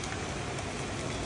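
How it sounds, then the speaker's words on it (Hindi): Heavy morning rain falls steadily across a city, a dense continuous hiss of downpour with no breaks, moderately loud and heard alone. "देखिए काफ़ी तेज़ बारिश हो रही है"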